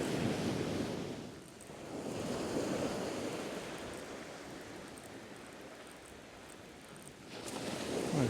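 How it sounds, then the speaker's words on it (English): Big sea waves roll in and splash at the shore near Hornsea as the tide comes in, a continuous rushing surf that swells and ebbs in slow surges, with some wind noise on the microphone. "There's some big old waves splashing in."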